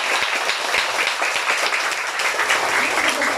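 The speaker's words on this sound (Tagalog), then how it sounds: "Kusog ka palakpak!" Steady, dense applause from a crowd of children at a villa on Malapascua Island, many hands clapping continuously with a few sharper claps standing out.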